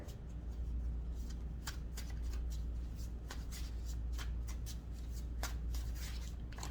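Tarot cards being shuffled by hand, a steady run of crisp riffling and flicking strokes close up over a low background hum.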